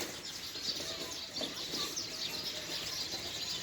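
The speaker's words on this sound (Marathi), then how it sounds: "त्यांचा चिवचिवाट ऐकू येतोय का?" Sparrows chirping in a tree in a village, a dense, continuous twittering chorus at moderate distance with no voices.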